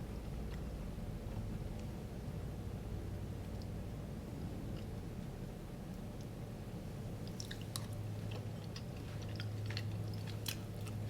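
Crunchy Vietnamese sweet and sour pickled vegetables are chewed close to the mic, with soft repeated crisp bites and squishy crunches growing more frequent toward the end.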